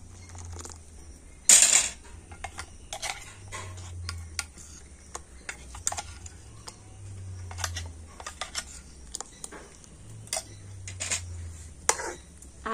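Gobindobhog rice is stirred in a pan over a low flame, with scattered soft scrapes and ticks of a spoon against the metal, close and fairly quiet, plus one louder clatter early on.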